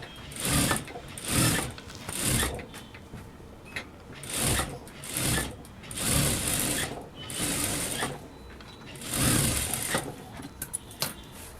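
A sewing machine runs a stitch along the edge of a lined blouse sleeve in short repeated bursts of whirring stitches, each a second or so long, separated by brief pauses, close and fairly loud.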